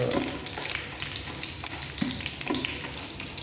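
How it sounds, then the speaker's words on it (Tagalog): Bitter gourd sizzling and frying in hot oil for a sautéed ampalaya dish, a steady crackling hiss with occasional stirring clanks, close and continuous. "Kunting babad lang sa mainit na mantika."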